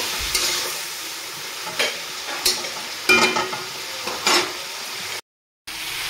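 Ground spice masala with coriander and cumin powder cooking in a pan, scraped and stirred in several distinct strokes over a soft sizzle, then a sudden brief silence near the end.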